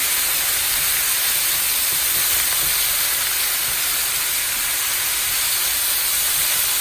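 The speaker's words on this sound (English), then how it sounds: "So my cabbage and onions are in there. I'm just gonna cook that down a little bit." Cabbage and onions, with a bit of red onion, frying in a hot pan, giving a steady, loud broadband sizzle and hiss that holds evenly throughout with no talking.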